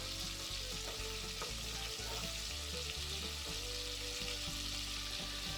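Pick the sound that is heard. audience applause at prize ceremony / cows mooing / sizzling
sizzling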